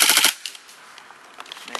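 An airsoft Desert Eagle pistol fires a fast full-auto burst of rapid sharp cracks, loud and close, then stops, leaving faint scattered clicks and handling noise.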